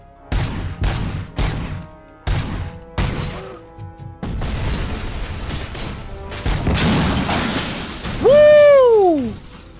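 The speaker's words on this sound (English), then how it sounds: "This is supposed to be a pistol" Pistol gunfire in RoboCop: Rogue City, a series of sharp, loud shots in quick bursts with breaking glass and debris crashing, ending in a rising mechanical whine.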